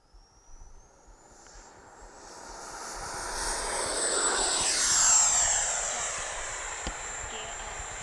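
An FMS F-86 Sabre 80mm electric ducted-fan RC jet makes a flyby, its whine building from distant to a loud pass overhead with a falling Doppler sweep, then fading away.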